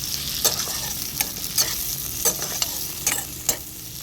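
Capsicum and vegetable pieces fry in a pan for chilli chicken, giving a steady close sizzle broken by several sharp scraping stirs at uneven intervals, with no voices.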